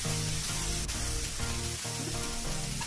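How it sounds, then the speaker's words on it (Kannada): Cabbage and tomato frying in a pan, a continuous hiss and sizzle with a steady crackle and a few faint scraping knocks, close and even throughout. "ಆಮೇಲೆ ಟೊಮೆಟೊ, ಇದನ್ನೆಲ್ಲನೂ ಚಲೋತ್ನಂಗೆ ನಾವು ಫ್ರೈ ಮಾಡ್ಕೊಳ್ಳೋಣ"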